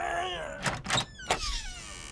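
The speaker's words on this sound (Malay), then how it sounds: "Apa sah tak boleh tarik pintu ni?" In a Mechamato cartoon, a stuck door is yanked hard, giving strained creaks and groaning squeals in bursts with a couple of dull thunks, close and fairly loud.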